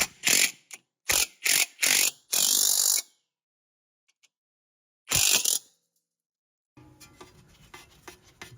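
A clamping tool being tightened on a Porsche 997 tie rod gives loud, close bursts of harsh ratcheting clicks in short runs, separated by silent pauses, then a few fainter clanks at the end.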